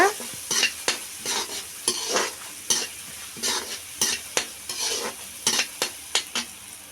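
Masala egg curry stirred in a pan, a spoon scraping and clinking against the metal in quick irregular strokes over a soft sizzle of frying, close and steady with no voices.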